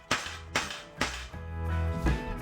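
Four heavy dead blow hammer blows land on a metal socket, pressing a worn idler or tensioner pulley bearing, at a slow, uneven pace, each a sharp thud with a brief ringing tail, close up.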